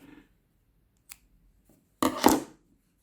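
Scissors snip through crochet yarn, a short crisp cut near the end, after a couple of faint small handling ticks in otherwise near silence.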